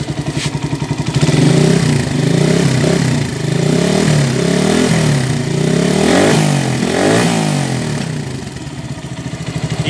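A Euro 152 motorcycle engine, freshly fixed of a rattle near the magneto, idles and is revved up several times in a workshop, running loud and close with a mechanical clatter and no talk over it.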